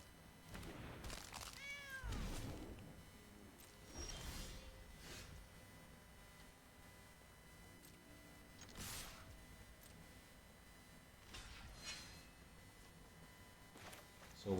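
A cat meows repeatedly from the Ice Cream Kitty card in the MTG Arena video game, with a few short rising cries early on, soft digital thunks and clicks of card play, and quiet stretches between them.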